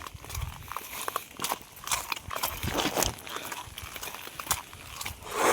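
A horse walks along, its hooves clip-clopping in an irregular close rhythm with scuffs and shuffles mixed in, heard alone without talk.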